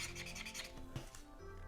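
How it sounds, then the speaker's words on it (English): Rubbing over paper with a Spy Kids toy marker to reveal invisible ink: quick, close, scratchy back-and-forth strokes in a brief rhythmic burst. "And then we take the visible one and we rub over it."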